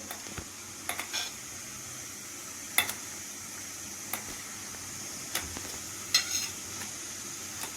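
A broad bean curry with tomato is stirred in a pan with a steady sizzle underneath, broken by occasional light scrapes and clicks of the utensil against the pan, close and moderately loud, with no talking.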